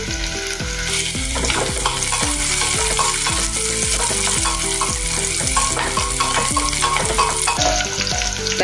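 Green chillies and onion frying in a pan for carrot-and-pea veg pulao: a steady loud sizzle with repeated stirring scrapes in a regular rhythm, close and continuous.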